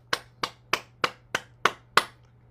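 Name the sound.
cupping and clapping hands on the body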